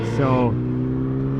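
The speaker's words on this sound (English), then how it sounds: "Oh, dang, that truck's loud." A loud truck drives past nearby, its deep engine roar steady and heavy for the whole short stretch, while a voice briefly speaks over it.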